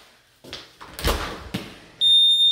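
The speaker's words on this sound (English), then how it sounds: "I think I just set off the alarm." A house alarm triggered indoors gives a steady high electronic tone that starts abruptly and holds, after a few thumps like a door closing.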